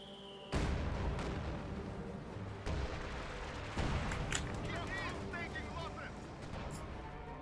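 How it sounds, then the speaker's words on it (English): Artillery barrages and gunfire from a Company of Heroes 2 battle rumble continuously, with several heavy booming impacts and crackling shots layered under dense game noise; a caster talks over the action. "So we've got artillery coming down in the middle."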